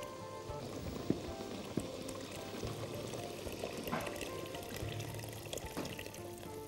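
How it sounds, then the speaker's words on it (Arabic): Water in a pot bubbles at a steady rolling boil for pasta with shrimp and tomato sauce, a close, continuous burble with small pops and splashes and no talk. "بتغلي اهي"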